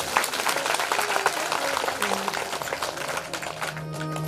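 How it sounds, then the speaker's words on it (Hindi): Audience at a Shiv Mahapuran katha at the Panchmukhi Mahadev temple, Alyad, Karsog breaking into applause, dense clapping over a few seconds while a voice carries on underneath. "एक बार तालियां।"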